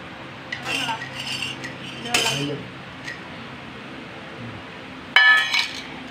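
Metal plate picked up and handled in a Kerala kitchen while chammanthi is served, with a few sharp clinks and clatters against other dishes, quiet pauses between.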